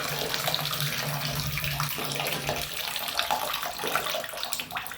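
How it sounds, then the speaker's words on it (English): Water pours steadily from a bathtub spout whose diverter is failing and letting too much through, a continuous close broadband rush with no talk. "The issue is the diverter is just letting too much water out."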